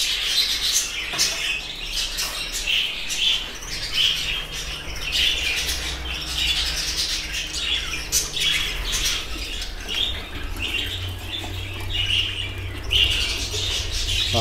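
Baby birds chirp and squawk insistently while being fed, shrill repeated begging calls with flutters of wings, close and fairly loud over a low background hum.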